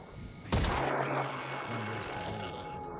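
A single sharp pistol shot from the sci-fi tactics game Phoenix Point cracks out close and loud, then fades into a lingering low rumble and background game ambience.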